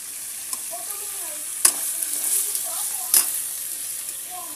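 Potato pieces fry in hot oil for pork igado, a steady bright sizzle with occasional crackles and two sharp pops. Faint background voices sit under the frying.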